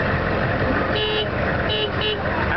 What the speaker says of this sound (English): Honk the horn once.